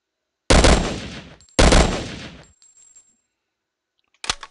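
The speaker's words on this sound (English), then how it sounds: "Just in case I pop a couple extra rounds there." Two loud, close gunshot bursts in the video game Black Ops 2, each with a trailing reverberant decay, followed by a brief sharp click or shot near the end.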